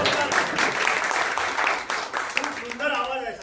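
An audience applauds at a live ABVP patriotic song program, a dense, steady wash of clapping that carries through the whole moment, with a hint of voice near the end.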